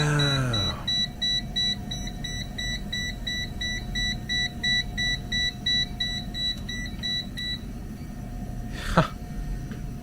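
A TopTes handheld gas leak detector, checking a gas furnace, gives a long run of rapid, evenly spaced electronic beeps in steady bursts, close and loud, ending with a brief low rumble near the end.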